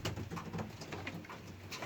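Pigeons crowded inside a loft of game birds give a steady run of soft overlapping coos, close and continuous with no pauses.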